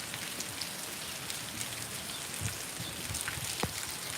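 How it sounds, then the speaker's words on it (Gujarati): Rain falls on surfaces outdoors, a dense continuous patter of drops with occasional sharper splashes, moderately faint and steady with no voices. "વિચાર કરો વરસાદ કેવો હશે"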